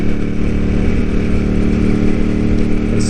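A Ducati 748R sport motorcycle engine runs with a steady, loud, deep mechanical throb, holding an even note throughout with no talking.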